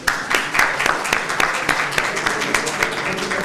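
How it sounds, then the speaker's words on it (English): An audience at an ophthalmology conference session claps briefly for a sponsor, with scattered distinct claps forming light, steady applause. "a round of applause for Jasani"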